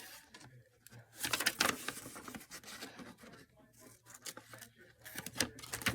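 Scissors cut through folded junk mail paper for a junk journal page, producing faint, crisp snips and papery rustles in quick, uneven succession, heard up close and quietly.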